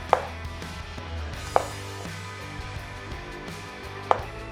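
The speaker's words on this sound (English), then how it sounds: "I'm going to cut my chips into even lines and get them nicely fried up" A knife chops squared-off peeled potatoes into chips on a board, three sharp, fairly loud thuds spaced a couple of seconds apart, with faint kitchen hum in between and no talking.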